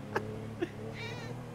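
A cat meows inside a car, two short cries followed by a longer drawn-out meow over the low hum of the vehicle, with no talking.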